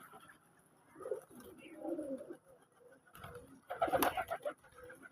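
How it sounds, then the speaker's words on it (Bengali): Native pigeons coo repeatedly at a pigeon farm, their soft, rolling calls coming in uneven bursts, growing louder and busier near the end, with no talking. "দেখেন আমার দেশি কবুতর খামার"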